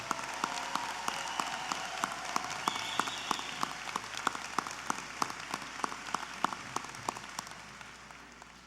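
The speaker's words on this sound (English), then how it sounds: "let's give these two a great big round of applause" An audience at a high school commencement ceremony applauds in a long run of crisp, distinct claps that sound like a modest crowd, steady for several seconds before gradually thinning and fading toward the end.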